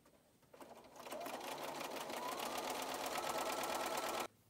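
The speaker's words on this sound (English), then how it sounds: "I'm using my 1/4 inch foot and sewing a 1/4 inch seam allowance." A sewing machine with a quarter-inch foot runs a straight stitch seam through quilt-block fabric, a close, steady rapid whirring and needle clatter that starts, speeds up and stops abruptly after about four seconds.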